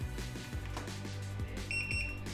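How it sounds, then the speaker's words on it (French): Two short high electronic beeps from a Boosted Mini S electric skateboard as it switches speed mode, sounding clearly over a steady low background hum. "2 bips pour le deuxième mode"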